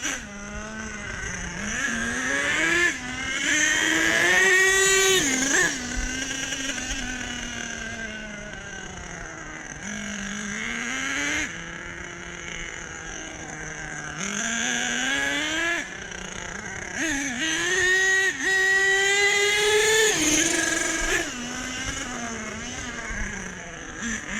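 A loud, close truck engine revs and climbs in pitch again and again, with repeated drops as it shifts up through the gears, including a quick change into second, over a sustained engine roar.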